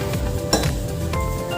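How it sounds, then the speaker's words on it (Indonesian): A utensil stirs salted coconut milk in a pot, with a couple of sharp metallic clinks against the pot over a soft, steady background. "Kita kacau terus ya sampai dia mendidih, supaya santannya tidak menggumpal-gumpal."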